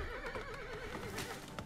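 Horses neigh and whinny in RimWorld, a wavering high whinny running through most of the short stretch, with faint hoof clip-clop underneath and no talk.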